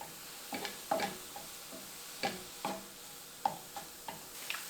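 Utensil stirring onion powder and salt into food in a pan, producing scattered soft scrapes and taps with a faint sizzle beneath, fairly quiet and close, no voices.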